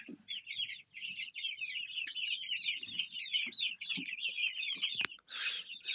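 Hens in a coop give a steady, rhythmic run of clucks and chattering calls, fairly close, with small knocks and rustling underneath and a sharp clack near the end.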